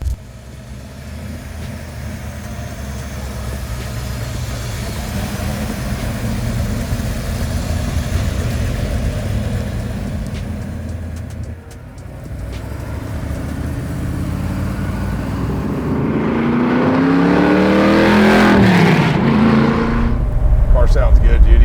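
A custom 1968 Shelby Mustang GT500 restomod rumbles with a loud, steady engine roar that builds into rising revs near the end, with people talking in the background.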